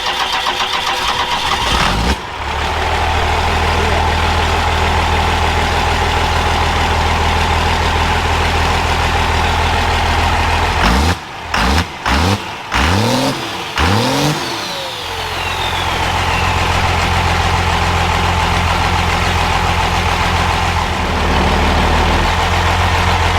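An old pickup truck, started for the first time this year, turns over in several sharp bursts of cranking before catching and running, with a loud, steady engine drone before and after the start attempts.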